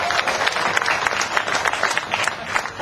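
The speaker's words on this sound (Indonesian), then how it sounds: "tepuk tangan buat Ustadz Wijayanto." Applause from an audience at a stage gathering as a religious speaker is welcomed, a dense, steady wash of clapping that carries on evenly for the whole stretch.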